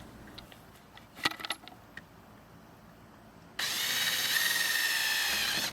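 A power drill bores a half-inch hole for a carriage bolt on a mobile hoop chicken coop, starting after a few metallic clinks and then running steadily and loudly for about two seconds before stopping.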